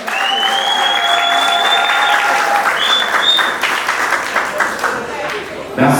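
Wedding guests applaud the newlyweds loudly and continuously, a full room of clapping with a voice and sustained tones rising over it before the clapping thins near the end.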